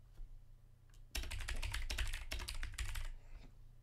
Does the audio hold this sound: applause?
no